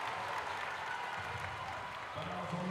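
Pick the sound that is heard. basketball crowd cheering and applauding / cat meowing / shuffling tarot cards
basketball crowd cheering and applauding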